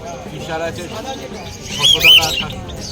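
Small pet birds in a bird market chirp in brief, sharp bursts, briefly louder near the middle, over steady conversation and market bustle.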